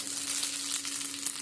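Cumin seeds sizzle sharply in hot oil for tempering with mustard seeds, a bright, dense, steady crackle close up and alone.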